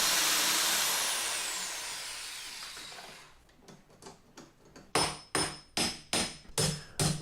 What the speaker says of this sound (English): Takes a bunch of hammering to get that to punch through sometimes.